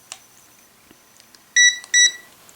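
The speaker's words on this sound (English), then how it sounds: "it's going to beep because the device comes on" A Bluetooth thermometer powers on with two loud, close electronic beeps in quick succession, preceded by faint clicks from handling the device in a quiet room.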